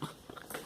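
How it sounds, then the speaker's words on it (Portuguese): Faint, brief dog sounds up close, soft snuffling and mouthing noises with a slight whimper, quiet and alone. "Até os cachorros não gostam de Dilma"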